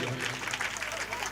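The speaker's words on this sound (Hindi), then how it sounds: "चलिए जोर से ताली सेवा हो" Audience applause at a devotional event with a tableau of Lord Krishna's leela, a short burst of dense clapping from a crowd close by.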